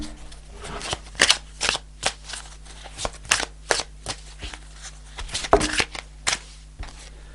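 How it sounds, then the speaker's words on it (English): Tarot cards are shuffled repeatedly up close, giving quick papery riffles and flicks in an irregular rhythm against a low steady hum. "Let me just shuffle."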